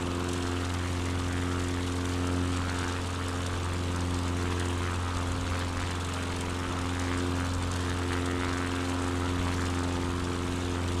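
Propeller aircraft cruising in Microsoft Flight Simulator 2024, a steady loud droning engine hum with constant tonal buzz, unchanging and close as if from the cockpit, no talking.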